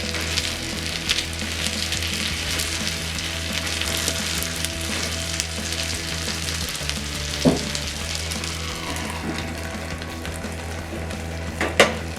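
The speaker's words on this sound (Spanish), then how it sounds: "una vez que ya está frito nuestro chorizo, le vamos a agregar el queso" Chorizo frying in a pan for stuffed portobello mushrooms, a steady close sizzle running throughout with a couple of brief clinks near the middle and end.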